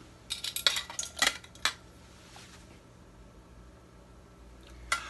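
Small butane canisters and a cook kit knock and clink inside a Stanley pot as they are packed in, giving a cluster of close metallic rattles followed by quiet, then one last clink.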